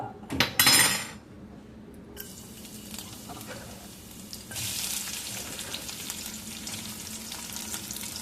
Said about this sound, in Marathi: आपले भाजून घेतले कांदा आणि कोबी